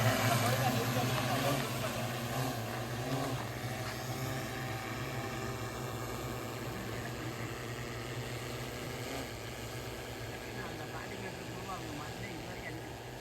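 An agricultural spraying drone flying over farm fields gives a steady, fairly loud rotor whine and engine-like hum that slowly fades as it moves away, with people talking over it.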